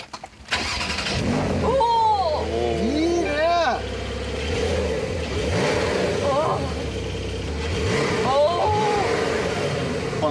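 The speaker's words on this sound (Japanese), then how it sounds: "この可愛さ、このポルシェサウンドいいっすよね。" A Porsche 911 engine starts up and revs several times, rising and falling in pitch over a steady idle, loud and close, while people talk over it.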